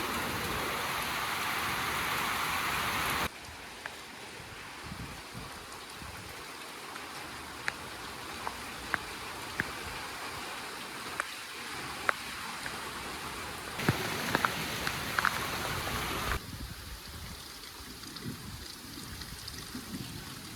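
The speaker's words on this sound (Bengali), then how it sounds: "বাতাস কমছে আর জোরে বৃষ্টি নামছে" Heavy rain falls steadily as a dense, even hiss, with scattered sharper drips and taps landing nearby, and no voices heard.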